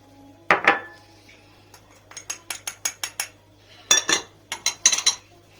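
A spatula stirs flour mixed with rock salt, sugar, mahleb and walnuts for soft bread, clinking and scraping against the bowl in a quick series of close, sharp taps with short pauses between.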